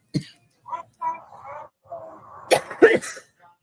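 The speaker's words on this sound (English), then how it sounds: "Everything I smoke makes me cough today." A person coughs after smoking, giving a few short, close bursts that close out a quiet stretch of indoor sound.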